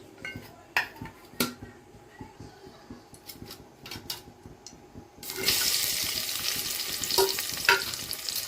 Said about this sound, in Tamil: வெங்காயம் நல்லா பொன்னிறமாக ஆகிற வரைக்கும் வதக்கிக்கலாம்.